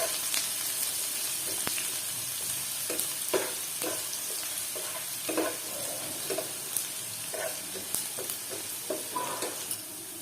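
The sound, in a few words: chopped onion frying and being stirred in oil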